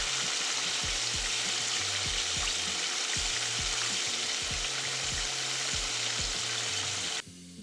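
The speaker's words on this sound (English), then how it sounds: "Into the oil it goes, lowering it in gently to not burn myself, and we can leave this one to cook for about 10 minutes" Zinger chicken fries in hot oil with a loud, steady sizzle and crackle, a constant close-up bubbling hiss that cuts off abruptly at the end.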